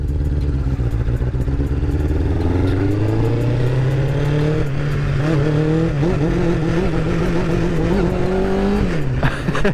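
A 1999 Honda CBR 600F street-fighter motorcycle revs hard on the throttle, its carbureted engine rising and falling through several sharp pulls. The sound is loud and close, with no talking.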